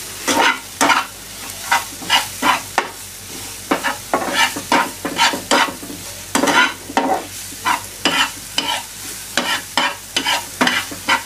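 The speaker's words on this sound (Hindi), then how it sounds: "और उसको अच्छी तरह से भून लेंगे। सब मसाले प्याज और टमाटर में मिक्स होने चाहिए।" Spices cooked with onion and tomato in a pan for Mumbai street-food ragda, stirred in steady rhythmic scrapes over a continuous sizzle, close and loud with no voices.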